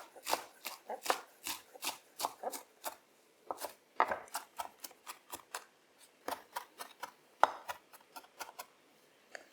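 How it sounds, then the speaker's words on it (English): A knife finely chops parsley and mint on a board in quick rhythmic bursts of sharp, close taps, separated by short pauses, with no talking. "Just roll everything up and finely chop it."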